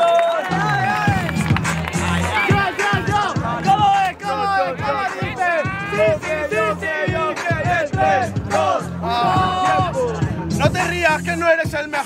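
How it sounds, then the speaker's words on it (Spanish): A live crowd at a freestyle rap battle event shouts and cheers in a loud, sustained roar, with a beat pounding underneath and a voice on a microphone calling over the noise throughout. "¡A ver los aplausos!"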